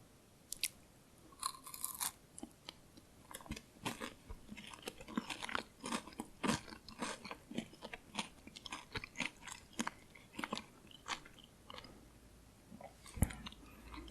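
Crunchy Norwegian chocolate candy with toffee and small rice puffs being chewed up close, a dense run of sharp crackling bites and crunches without talk.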